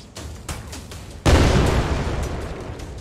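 A rocket blast in a video game erupts loud and broadband at once, then lingers as a rumbling, slowly fading roar after some quieter game noise at the start.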